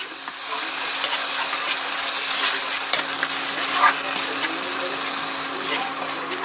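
Coconut milk is stirred into a fish curry masala frying in oil, giving a steady, loud sizzle and bubbling hiss with faint clinks of the spoon, all close and continuous.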